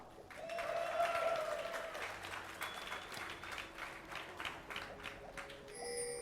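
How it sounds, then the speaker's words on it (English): A crowd at a DreamHack gaming event applauds and cheers steadily, a dense wash of clapping that swells at first, then gradually thins out and fades. "let me hear you guys cheer in the audience"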